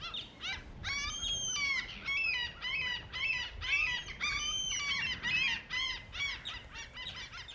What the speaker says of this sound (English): Can you hear the seagulls?